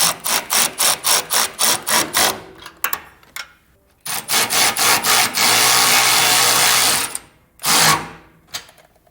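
Tightening nuts on the upper bracket of a Pacbrake air bag kit on a 2024 Ford F-series truck, with a fast series of ratchet bursts, a pause, then longer ratcheting runs, loud and close.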